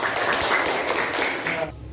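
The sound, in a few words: class applauding a student group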